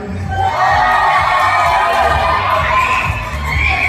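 A loud crowd at a gay beauty pageant cheers and shouts in a dense, sustained roar of screams and whoops, close and continuous throughout the clip.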